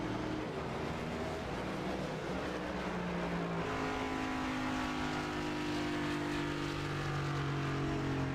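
A field of race cars accelerating at Atlanta Motor Speedway in a sim racing video game, a dense continuous engine drone with rising, overlapping pitches as several cars climb through the revs together, steady and fairly loud.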